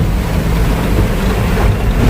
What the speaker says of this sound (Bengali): তবে দুশোর মধ্যে বিশাল বৃষ্টি হচ্ছে, এতটা বৃষ্টি হচ্ছে ধারণার বাইরে